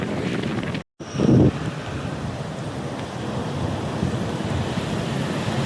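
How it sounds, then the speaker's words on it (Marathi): Strong wind roars over a flooded highway, buffeting the microphone with a constant rushing noise and a brief dropout near the start. "आणि खूप जोरात हवा चालू आहे"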